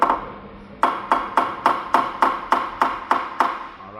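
A steel hammer knocks a bolt extractor into a broken bolt, about ten even, sharp metallic taps at a steady quick rhythm, close and fairly loud, after a brief quiet start.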